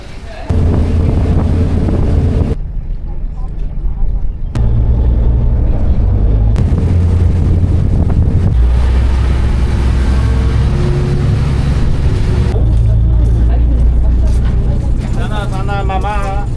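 A boat carries passengers on a rainy, windy trip to Snake Bay for a litter clean-up; a loud, steady engine rumble mixes with wind buffeting, and indistinct voices come and go.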